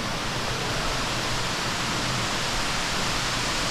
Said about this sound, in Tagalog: Naririnig mo lang yung bagsak ng tubig sa ibaba at ang agos dito.